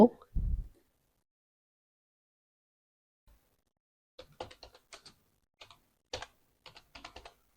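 Keys clatter on a computer keyboard while English text is typed into Photoshop, arriving in short quick bursts of clicks after a brief thump and a pause, close and fairly quiet with no talking.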